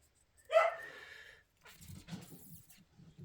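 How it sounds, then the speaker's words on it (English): A reactive dog barks once sharply up close, then gives a few softer yips and whimpering sounds indoors. "Excuse my dog barking."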